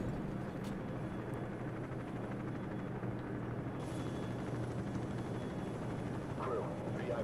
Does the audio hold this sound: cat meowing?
no